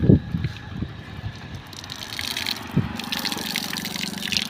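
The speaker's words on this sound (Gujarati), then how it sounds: "જોવા નળ ચાલુ છે," A running water tap splashes and trickles steadily outdoors in hot weather, fairly close, with a couple of knocks at the start and no talking.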